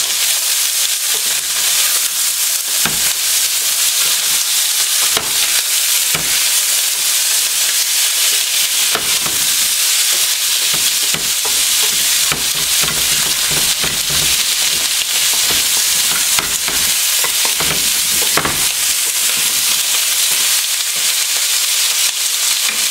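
Potatoes fry in butter in a pan, giving a loud, steady, close sizzle with occasional crackles and faint stirring scrapes throughout.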